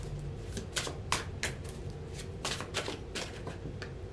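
Tarot cards being shuffled in a series of crisp riffling bursts and slaps, close and fairly loud, with no talking.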